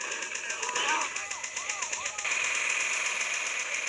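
The Huo Long Heater minigun firing in Team Fortress 2, a steady rapid mechanical gunfire drone over a few seconds, loud and continuous, with a brief whooshing texture partway through.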